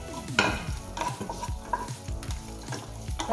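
Ginger and garlic being stirred and fried in a pan for chilli chicken, a steady loud sizzle broken by repeated scraping strokes of a spatula, with no talk.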